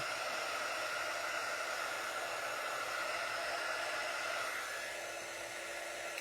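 A hair dryer blows steadily and loudly at close range, drying paint on a wooden sign with black lettering, a continuous airy roar with no voices.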